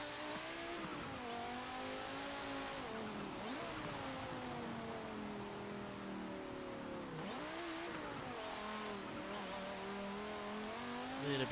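A 2011 Audi RS 3 Sportback is driven hard in Forza Motorsport 7, its engine note climbing and dropping through shifts and braking, continuous and full with occasional tire squeal.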